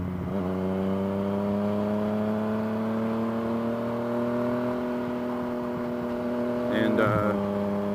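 A Yamaha FZ-09 motorcycle's engine and exhaust hum at a steady cruise with a deep, even drone, then swell briefly with a throttle blip near the end.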